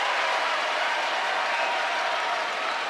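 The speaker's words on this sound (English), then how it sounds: "What an applause for just checking into the game." A packed Duke basketball arena crowd applauds and cheers a player checking into the game, a dense, steady roar of clapping that fills the whole clip without letup.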